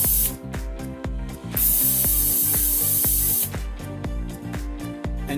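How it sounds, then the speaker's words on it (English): An air control solenoid on a CNC vacuum system fires repeatedly, giving sharp rhythmic clicks with two longer bursts of loud hissing air, close and prominent, with no talk. "And vacuum where we connected the air control solenoid."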